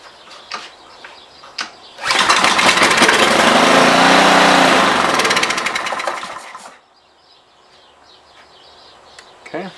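A Honda small engine fired on carb cleaner catches after a few pulls, roaring loud and steady for several seconds before dying back to quiet, with faint clicks around it.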